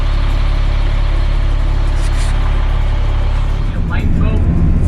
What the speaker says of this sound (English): Now we're going to board this filthy bus